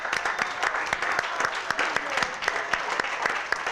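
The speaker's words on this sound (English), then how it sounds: "Give him another round of applause." Audience at a public conversation event in Selma applauds in a continuous patter of many hands, moderately loud, with sharper individual claps standing out through the few seconds.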